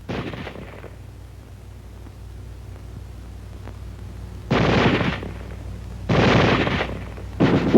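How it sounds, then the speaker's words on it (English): Automatic small-arms gunfire comes in dense sustained bursts: a short burst early, then two longer loud rattling volleys and the start of another near the end. "Weapons giving automatic fire will fire continuously as long as pressure is applied to the trigger, or until the ammunition is exhausted."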